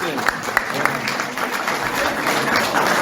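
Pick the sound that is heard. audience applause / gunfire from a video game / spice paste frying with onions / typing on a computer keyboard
audience applause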